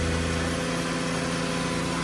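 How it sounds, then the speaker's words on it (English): A small pony motor on a 2008 GMC 7500 truck idles steadily, partially choked on a cold engine, a loud continuous mechanical drone with a constant low throb and no pauses. "you go the next way and the little motor will start"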